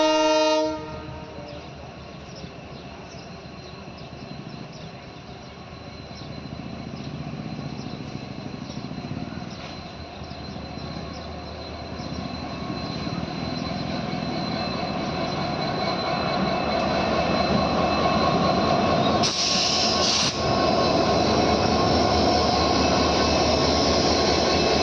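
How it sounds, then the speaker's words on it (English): Empty rake of the Meenakshi Express passing on its way to Manamadurai, a long steady rumble of rolling wagons with squealing wheels and a horn blast, growing louder toward the end. "The train seen here is the empty rake of Meenakshi Express moving to Manamadurai."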